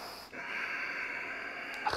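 Steady breath held through a yoga warrior pose, a continuous airy hiss with a soft catch at the start and a brief sharper exhale near the end, close and fairly quiet.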